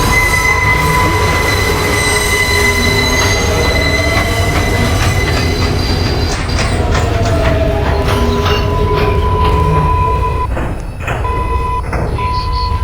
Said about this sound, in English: This is a Bronx-bound 4 express train.